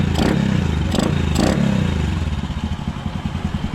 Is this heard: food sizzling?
no